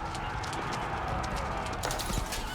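Massed horse cavalry gallops in the Age of Empires IV strategy game, a dense steady drumming of hooves under a busy battle din, with a brief louder clatter near the end.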